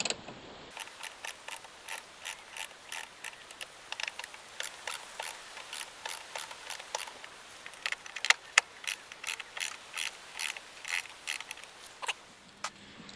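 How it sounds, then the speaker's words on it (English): Wrench loosening the three M10 nuts that hold the ABS pump on a Range Rover P38: a rapid, steady series of sharp ratcheting clicks, close and fairly quiet, running for several seconds without speech. "There's 3 M10 nuts that hold the pump on. So I'm going to loosen them off so they're finger tight."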